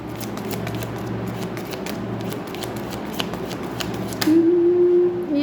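Tarot cards being shuffled by hand, a close, continuous papery riffling and flicking that runs steadily for several seconds, with a faint hum or voice near the end.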